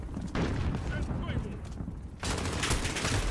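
Gunfire in a video game shooter rattles continuously in dense automatic bursts, loud and close, jumping to a heavier volley near the end, with a voice talking under it.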